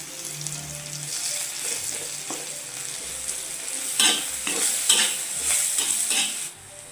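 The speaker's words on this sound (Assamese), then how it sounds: "এতিয়া মই ইয়াতে জিৰাকেইটা দিম আৰু জলকীয়াকেইটা দিবলৈ আছে।" Cumin seeds and dried chillies fry in hot mustard oil in a pan for a mushroom curry, giving a steady close sizzle with stirring scrapes and brief louder crackling bursts toward the end.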